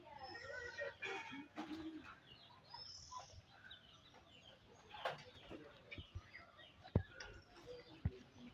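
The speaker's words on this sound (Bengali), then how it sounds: "দেখুন আমাদের কবুতর।" Pigeons coo softly around a village homestead, their low murmurs mixed with clucking chickens and a few sharp knocks, with faint voices in the background.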